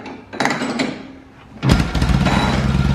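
A 1937 Indian Chief motorcycle, a barn find with a fresh motor, cold starting: a few sharp kick-over bursts, then the engine catches and settles into a loud, steady running rumble.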